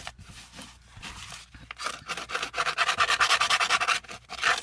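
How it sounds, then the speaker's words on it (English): Old glue being scraped off a book spine during journal rebinding, a harsh rasping scrape in uneven strokes that grows louder and denser toward the end, close up with no talking. "I just like to scrape some of the old glue off so it's not like shooting everywhere when I pull the signatures apart"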